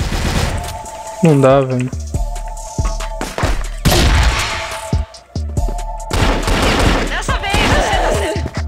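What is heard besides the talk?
gunfire from a gun in a video game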